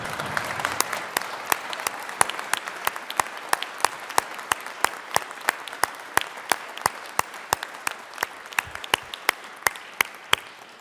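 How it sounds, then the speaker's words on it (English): Applause in the Colorado Senate chamber on a legislative opening day, a dense steady patter of many hands with sharp individual claps standing out, filling the room for about ten seconds and tapering slightly at the end. "you should stand and give her a major applause for standing with me"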